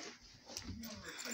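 A dog whimpers softly inside a car that froze shut, with faint, short whines heard close by beneath a person talking.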